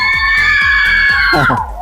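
Loud, sustained high-pitched screaming from children playing in rainwater flooding a street during heavy rain in Vijayawada, close and continuous, with a burst of shouting near the end.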